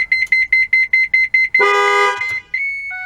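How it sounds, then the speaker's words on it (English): A van child alarm system's repeated electronic beeps give way to a loud, blaring horn-like external alarm burst, then a steady high tone lingers after it cuts off. "it gives you a few seconds before it turns the outside external alarms"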